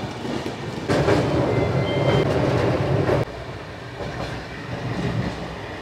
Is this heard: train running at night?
yes